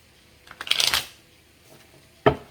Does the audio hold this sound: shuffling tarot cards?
yes